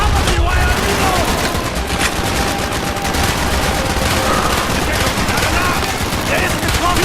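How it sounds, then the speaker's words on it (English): Dense, loud gunfire from a Call of Duty Black Ops firefight rattles continuously in rapid bursts and volleys, with voices shouting faintly underneath. "Das ist ein Schuss!"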